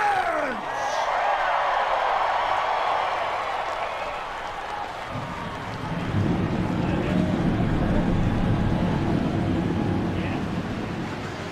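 Race car engines firing up in NASCAR Racing 2003 at Daytona for the Firecracker 400: a low rumble swells midway and grows into a dense, sustained roar over a windy background.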